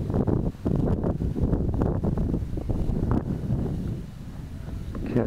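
Strong gusty wind buffets the microphone outdoors in a yard on a windy day, a steady loud rumbling roar that swells and dips throughout with no speech.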